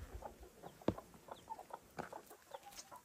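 A hen with two chicks clucks softly, giving short, scattered low clucks that sound faint and somewhat distant against a quiet background.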